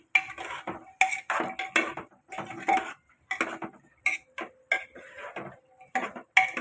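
Chickpeas go into a cooking pot for chana masala, giving a series of short, close clattering knocks and scrapes of utensil on metal in an uneven, repeated rhythm with brief gaps between them.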